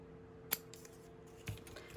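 Scissors snip along the edge of a crocheted doily, two or three crisp close cuts spaced apart in a quiet room.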